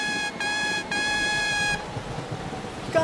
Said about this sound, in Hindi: मैं अपना हॉर्न बजाता हूँ।